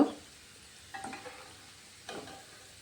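Pieces of semolina chowmein frying in hot oil in a kadai, a soft steady sizzle with two brief bursts of stirring or lifting out of the oil.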